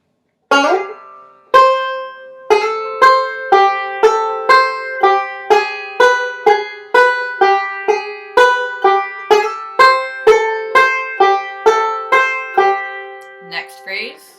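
Banjo playing the B part of Kansas City Railroad Blues, a steady run of about twenty bright plucked notes with ringing sustain, close and solo, with a brief voice at the very end.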